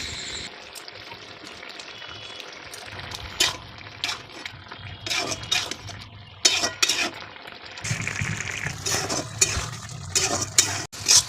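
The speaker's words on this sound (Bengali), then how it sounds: "কিছুক্ষণ ধরে নেড়েই যাবে।" Ridge gourd curry with poppy seed paste, sugar and a little water is stirred in a pan, a spoon scraping and clinking repeatedly against the metal over a soft sizzle, irregular close-up strokes with no talking.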